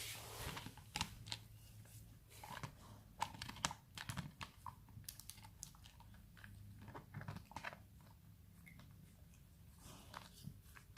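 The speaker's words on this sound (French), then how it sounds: "Elle est partie le manger dans son panier." A small dog gnaws and crunches on an 8-in-1 chew bone in its basket, a steady stream of faint, close, irregular clicks and crunches with no talking.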